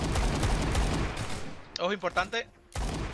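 Revolver gunfire in the shooter Phantom Forces: a quick volley of loud shots, then a pause with someone speaking Spanish, and another shot right after.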